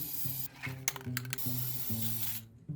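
Matte sealer sprayed from an aerosol can onto a painted light switch cover, a close hissing spray with short clicking interruptions, then falling quiet at the end.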